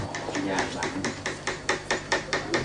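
Calligraphy is carved into a board of xà cừ wood, with a tool struck in a quick, even series of about a dozen crisp, close taps, rising slightly in force toward the end.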